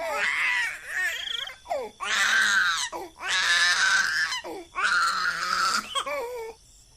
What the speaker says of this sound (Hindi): गुड़िया के रोने की आवाज से कोमल की लाश तड़पने लगती है